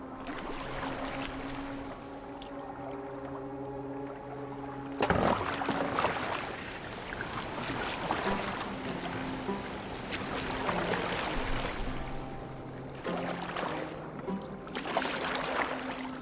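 Oars work a boat through water in Assassin's Creed Valhalla, with steady splashing strokes and sloshing over a low droning tone and game ambience, one sharp louder burst partway through.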